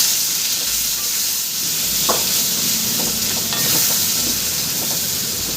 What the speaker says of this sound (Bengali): সামান্য একটু হলুদ দিয়ে আমি এটাকে ভেজে নেব